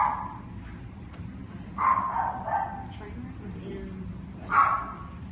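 A dog barks a few times at a distance, in short separated bursts, while a person talks quietly underneath.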